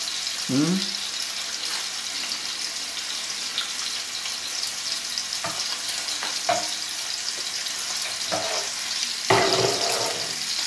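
Veal fillets sizzling and frying steadily in a pan, with occasional scrapes and knocks of stirring, close and continuous with no talk.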